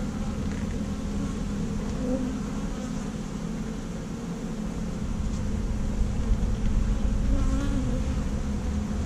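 Honeybees buzz around an urban hive where a freshly installed colony is drawing comb: a dense, steady swarm drone that stays loud and close throughout, slightly swelling in the second half, with no talking.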